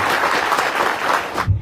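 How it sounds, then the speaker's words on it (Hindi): Audience applause in a hall, a steady dense clapping from a crowd that holds at full strength and then cuts off abruptly. "इसके लिए जोरदार ताली बजा दीजिए।"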